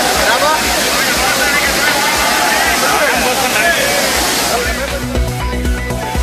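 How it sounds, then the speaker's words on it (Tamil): Courtallam waterfalls pour down in a steady, loud roar of rushing water while a holiday crowd of bathers babbles throughout, with voices mixed into the continuous splash. "விடுமுறை தினத்தையொட்டி குற்றால அருவிகளில் குவிந்துள்ள கூட்டம்."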